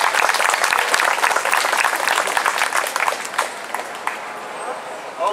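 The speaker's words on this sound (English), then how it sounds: "Yeah, that's my biggest round of applause so far." Outdoor audience at a Chicago park public debate applauds after a speech, dense sustained clapping with some crowd noise and voices, steady for several seconds then thinning slightly toward the end.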